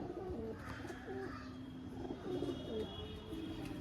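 Pigeons, a breeding pair of high-quality birds, coo softly in low repeated phrases across the few seconds, set against a steady background hum with no talking.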